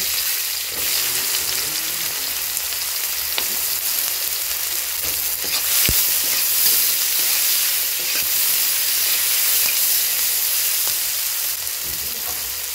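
Onions fry in a pan of hot oil, giving a steady, close, dense sizzle that runs the whole time with a few faint spatula scrapes and no voices.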